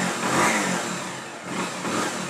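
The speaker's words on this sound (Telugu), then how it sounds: "ఓకే బండి అయితే స్టార్ట్ అయింది." A Pulsar motorbike engine, with its ignition coil wired directly past a dead switch, runs loudly up close, its steady mid-pitched drone swelling with throttle revs.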